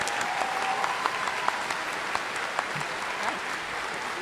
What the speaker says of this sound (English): Please join me in a final round of applause for all of our graduate students who have completed their advanced degrees.